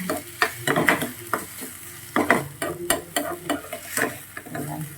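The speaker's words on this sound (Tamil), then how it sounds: "நான் அந்த நெய் இதெல்லாம் சேர்த்து நல்லா கலந்துக்கிறேன்." Ghee mixture for pongal being stirred in a pan, with repeated scraping spoon strokes in an uneven rhythm over a soft sizzle, close and fairly loud.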